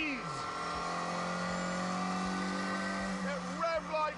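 A twin-cam 1.6-litre car engine revs hard and buzzes with a high, sustained whine, pitch rising and falling with the throttle, loud and close.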